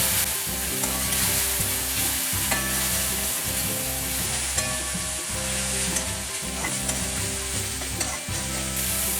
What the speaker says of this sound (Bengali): এবারে ভালো করে এটাকে একটু কষিয়ে নেব